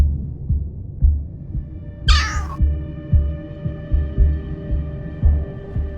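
A summoned cat gives a single high, bright meow in a Solo Leveling Arise game cutscene, lasting about half a second over a steady low throbbing, pulsing music bed.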